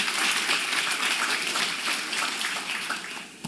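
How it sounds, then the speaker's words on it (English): Sustained applause from a conference audience for a policy team at a closing plenary session, dense and steady clapping from many hands filling the hall for several seconds. "you got to give another round of applause for the policy team"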